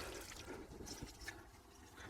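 Water trickling and dribbling as a hot tub chemical floater is squeezed out by hand outdoors during a Lay-Z-Spa Milan pack-up, a faint, brief, close splashy trickle.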